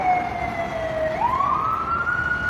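Police car siren wailing in Dubai traffic, a loud steady tone that sweeps up in pitch partway through, with engine rumble beneath.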